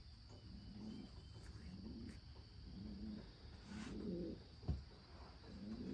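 Racing pigeon hens cooing inside a loft, soft repeated low coos recurring every second or so over a steady background hiss and faint insect-like buzz, fairly quiet, with a brief knock near the end and no talk.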